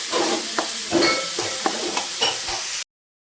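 Jackfruit vegetable being sautéed in a pan for a Konkan-style dish: a steady sizzle with repeated scraping stirs of the spatula every half second or so, close and fairly loud, no voices.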